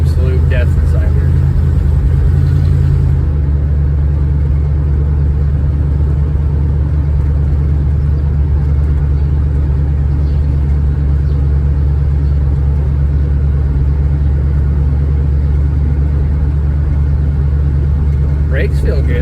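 A 1968 Pontiac Firebird's engine rumbles low and steady from inside the cabin as it drives, a constant droning hum with little variation.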